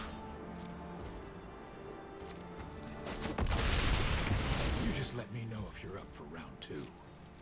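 A volley spell effect from the card game MtG Arena swells into a loud, dense burst of crackling impacts midway through, rising over quieter game background sound and then fading.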